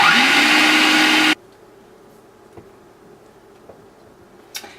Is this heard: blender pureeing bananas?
yes